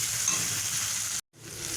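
Onions frying in oil in a pan for a mourola fish curry, giving a steady close sizzle that cuts out for a moment before returning.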